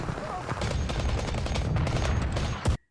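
Bursts of dense gunfire from a World War I battle scene in All Quiet on the Western Front, with rapid cracks stacked over a constant rumble. The volley swells to a final loud burst and then stops.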